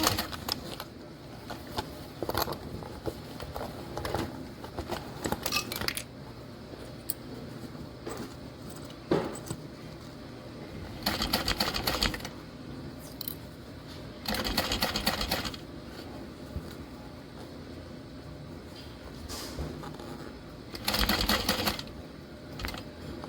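Bursts of rapid mechanical stitching from a sewing machine top-stitching a handbag, several runs of a few seconds each separated by quieter pauses with small handling clicks and rustles.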